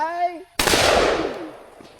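A single loud gunshot, likely from a video game, cracks out after a short voiced sound and its echo trails away over about a second and a half.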